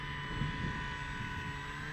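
Carbon Z Cub SS RC airplane taking off in safe mode without flaps, its electric motor and propeller giving a steady, continuous whine with a constant tone and no voices.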